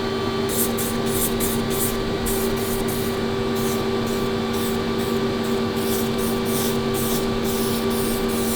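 A steady, loud hiss of a spray gun laying down a thick coat of red oxide primer on a 1941 Kübelwagen, continuous throughout with a constant mechanical hum underneath.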